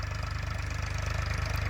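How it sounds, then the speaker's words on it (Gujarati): A farm tractor's diesel engine runs steadily with a low, even chugging pulse that stays loud and close throughout, with no voices over it. "જો આવે છે અમારું ટ્રેક્ટર"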